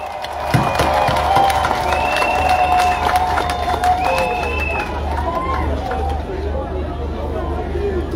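Large outdoor crowd at a political campaign rally in Bitam, Gabon, cheering and clapping loudly and continuously, a dense roar with shouts and whistles throughout.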